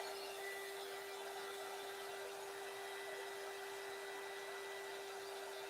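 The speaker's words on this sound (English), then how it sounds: "My hair dryer is actually in my bathroom." A hair dryer running steadily in an art studio, an even airy whoosh with a constant whine, fairly faint and alone without talk.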